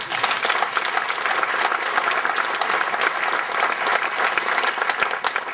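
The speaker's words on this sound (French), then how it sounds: "On l'applaudit bien fort." Audience applause at a civic ceremony fills the whole stretch, a loud, dense, steady clapping from many hands with no break and no voices standing out.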